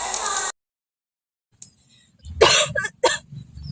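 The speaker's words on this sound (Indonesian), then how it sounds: "Ibu tidak apa-apa nak, hanya batuk biasa saja." An older woman coughs while working in a rice field, giving a few short, sharp bursts close to the microphone, one after another and then a final single cough, after a brief noisy stretch and silence.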